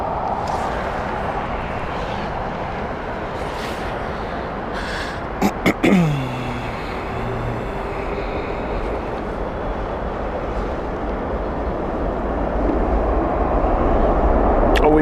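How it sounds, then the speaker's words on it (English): A Boeing 777-200 airliner on the Miami flight at Heathrow gives a steady, broad jet roar that swells toward the end, with a brief rising whine partway through and faint talk under it. "This is the Miami flight with the 777-200."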